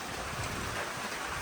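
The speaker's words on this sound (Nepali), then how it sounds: "पानी चाहिँ परिरहेछ" Rain falling on a steep, slippery mountain trail on the Bhairabkunda trek in Nepal, a dense, even patter of drops hissing steadily nearby with no break.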